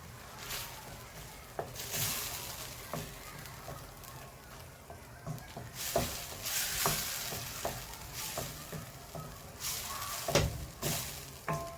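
Tomatoes with turmeric, garam masala, chilli powder and coriander powder sizzle in a hot pan while a spoon stirs them, making a soft, steady frying hiss broken by faint scraping strokes.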